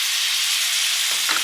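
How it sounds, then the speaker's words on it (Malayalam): Chopped tomato sizzles and fries in an oil-filled pan for a Kerala-style mutton curry, a steady loud crackling hiss with brief stirring disturbances near the end. "ഒരു ചെറിയ ടൊമാറ്റോ നമുക്കിതിലേക്ക് ചേർത്ത് കൊടുക്കാം."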